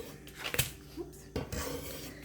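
A spoon clinks and scrapes against a bowl while an herb mixture is stirred into breadcrumbs, with two sharp knocks standing out among quieter rattling strokes, close up and without speech.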